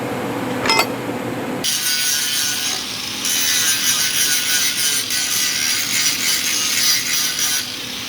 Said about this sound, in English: I gotta do a little grinding over yonder